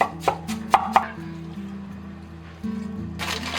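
A knife chops sharply on a board several times in quick succession, mincing smashed water chestnuts, then pauses over a quiet hum before a final few clatters.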